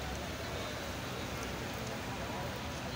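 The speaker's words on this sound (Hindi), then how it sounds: "मदीने में बारिश" Steady, dense hiss of rain falling continuously in Medina, at the Prophet's Mosque, loud and unbroken, filling the whole clip.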